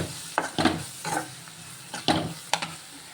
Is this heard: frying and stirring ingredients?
yes